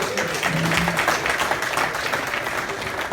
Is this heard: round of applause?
yes